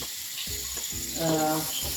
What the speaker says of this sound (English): You have to saute it till it becomes light brownish color, golden brown color.